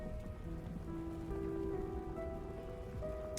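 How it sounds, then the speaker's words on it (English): Steady rain patters in the fishing game Dredge, a dense continuous hiss with faint tonal hums underneath; no clear thunder clap stands out. "I can hear the rain and the thunder sounds like all around on my headset."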